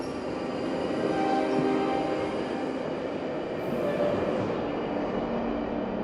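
A moving train carriage rumbles steadily from inside, with continuous wheel and track roar, faint squeals and a low droning hum throughout, no voices.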